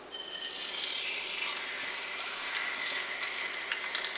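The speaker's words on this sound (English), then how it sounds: "that wasn't as loud of a sizzle as I would like" A steady, hissing sizzle of seasoned birria meat frying in a hot pan, close and continuous, with a few light crackles and pops toward the end.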